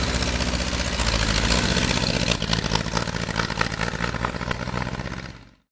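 A Henderson Four four-cylinder motorcycle engine idles loudly and steadily, a dense continuous rumble with slight rhythmic pulsing, then cuts off abruptly at the end.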